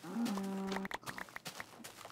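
A Minecraft cow lets out a drawn-out, fairly loud moo nearby, followed by faint scattered game sounds.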